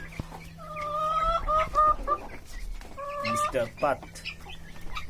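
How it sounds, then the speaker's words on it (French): Faverolles hens and a white rooster on an African farm, clucking and calling in several close, bright bursts, with someone speaking briefly over the birds. "Notre coq blanc et mini noir favorole."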